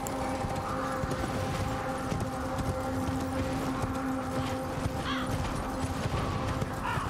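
A horse in the Elden Ring video game trots with quick, steady hoofbeats clip-clopping under a constant ambient hum, and a brief whinny-like cry breaks in near the end.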